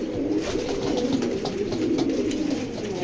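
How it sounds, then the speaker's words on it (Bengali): Racing pigeons coo in soft, low, continuous burbling close by, with no talk over it. "আমি কবুতর দুইটা একটু নিচে ছেড়ে দেখাই"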